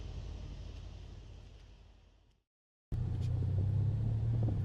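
A Mercedes C63s coupé driving in sport mode gives a low engine rumble that fades away. After a brief gap, a louder steady droning rumble follows.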